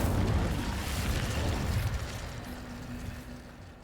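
Incendio fire spell cast in the Hogwarts Legacy video game, a soft whooshing burst of flame that swells briefly and fades into a low, steady rumble with a faint tonal hum.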